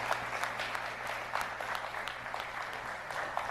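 A church congregation claps in praise during a worship service, a dense, moderately distant patter of many hands that keeps an even pace throughout, with no voices over it.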